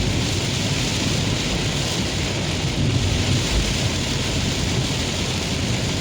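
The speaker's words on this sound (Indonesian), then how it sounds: "Ini curah hujan memang sangat tinggi sesuai ramalan cuaca yang dari BMKG kemarin" Heavy rain pours down during a pre-dawn drive on an Aceh toll road, a dense, steady roar with deep rumbling underneath that holds unchanged throughout with no voices.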